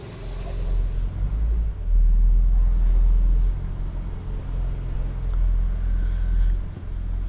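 A BMW M4 CSL on its first drive home from the dealership: a steady, close low engine rumble with road noise inside the cabin, swelling slightly at times, with no talk.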